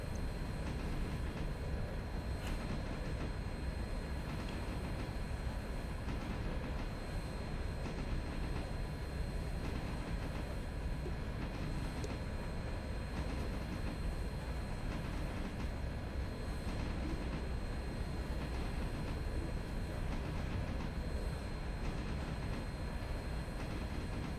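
Steady low rumble of a small-scale model steam train running along track, continuous and even with faint rhythmic clicks, no voices.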